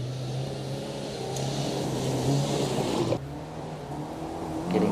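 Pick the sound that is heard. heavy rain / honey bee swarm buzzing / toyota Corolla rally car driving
toyota Corolla rally car driving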